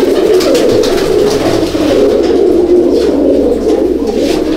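Fancy pigeons coo in a loft in Howrah, a dense, continuous chorus of low throaty coos from many birds close by, loud and without a break.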